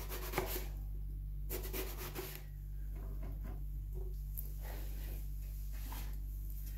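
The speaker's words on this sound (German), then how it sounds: "die werden jetzt in ungefähr 1 cm dicke Scheiben geschnitten" Knife slicing washed aubergines into roughly 1 cm slices for moussaka, soft repeated cuts and scraping rubs on a board in irregular bursts over a low steady hum.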